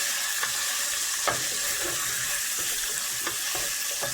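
Two cloves of garlic sizzle with golden-browning chicken in a pan for chicken soup, a steady close frying hiss with a few soft stirring clicks and no talking.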